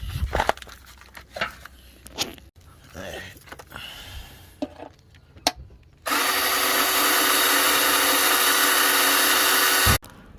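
Some scattered knocks and handling noises, then a power drill whirs loudly and steadily for about four seconds, drilling a pilot hole during a Honda Del Sol turbo install, before it stops abruptly.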